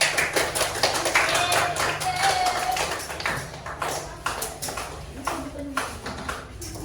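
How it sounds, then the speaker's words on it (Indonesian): A class of students applauds for a group after their presentation, a dense patter of hand claps running throughout at moderate loudness, with some voices mixed in. "Tepuk tangan untuk kelompok 1."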